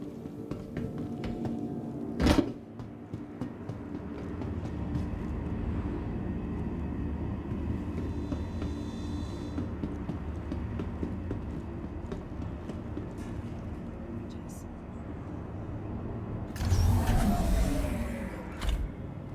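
Steady low rumble of a Metro Loop tram ride in the video game Star Citizen, a continuous droning hum with a brief sharp clank early on and a louder burst of noise near the end.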